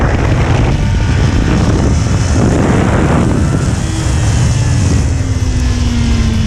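A Kawasaki Ninja 400, a two-cylinder 400cc motorcycle, revs hard in second gear, its loud, steady engine roar mixed with heavy wind rush and a tone climbing in pitch as it speeds away.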